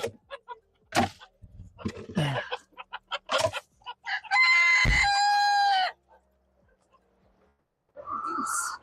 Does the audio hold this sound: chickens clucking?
yes